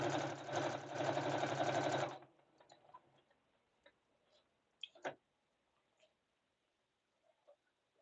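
Sewing machine stitching fabric in a loud, rapid mechanical run for about two seconds, then stopping, followed by quiet scattered clicks and handling noises.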